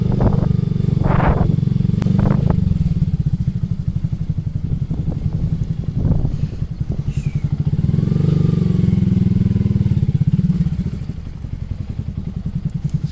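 A Honda Grom motorcycle rides through busy West El Paso streets, its small single-cylinder engine droning steadily up close with brief revs and clatter, loud and continuous throughout.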